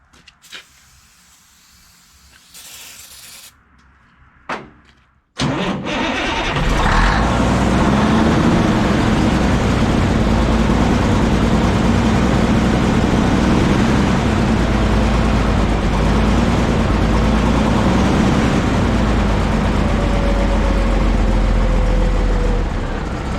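An M915A1 military truck rigged with three batteries sits quietly through a few faint clicks, then its engine suddenly catches with a loud roar and settles into a steady, heavy, close idle rumble.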